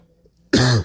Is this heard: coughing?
yes